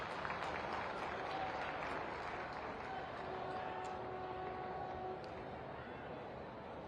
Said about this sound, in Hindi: भी इस मौके पर, इस खास अवसर पर अपनी तालियां मंच तक प्रेषित करें